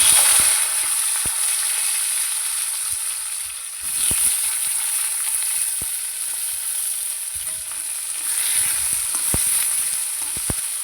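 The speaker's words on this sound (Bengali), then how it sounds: "এই তেলের মধ্যে এখন আমি কাঁচকলাগুলো দিয়ে দেবো এগুলো ভেজে নেব" Raw green banana pieces fry in leftover fish-frying oil with a loud, continuous crackling sizzle. Scattered sharp pops and spatters break through the sizzle, which swells at times and carries on without talk.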